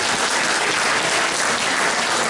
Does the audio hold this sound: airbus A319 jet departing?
no